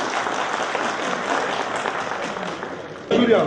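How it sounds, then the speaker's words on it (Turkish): Audience applause at a tradesmen's credit cooperative congress, steady broadband clapping from a large crowd that fills the clip, swelling louder again near the end. "kuvvetli de alkışlandı"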